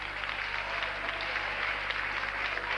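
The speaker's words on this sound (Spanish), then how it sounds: "Un aplauso para Juan." Audience applause at a Spanish variety-show stage event, a steady, dense wash of clapping that holds at an even level for about three seconds with no clear breaks.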